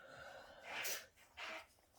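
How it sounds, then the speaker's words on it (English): Air freshener giving two short, quiet bursts of hissing spray in quick succession, close by in an otherwise quiet room. "If you just heard that then, that was my air freshener."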